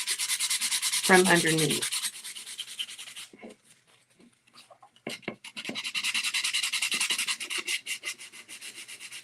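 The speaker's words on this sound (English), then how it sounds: "by using the sandpaper and sanding it, you're going to bring some more of that color up" Sandpaper rubs by hand back and forth over a wooden rustic frame in rhythmic strokes, pausing briefly midway, with a short voice and an animal sound near the start.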